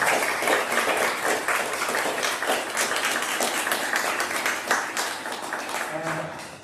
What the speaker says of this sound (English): let's just do a round of applause for our lovely panelists